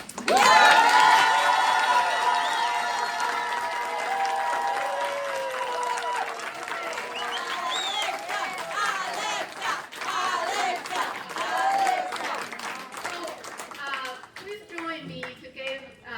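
Audience applause at a city council candidate forum, dense clapping and some cheering mixed with voices, sustained and fairly loud, with a sung or called-out voice rising over it early.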